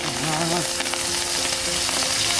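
Snails fry in a pan in a rice field setting, a dense, steady close sizzle with faint stirring.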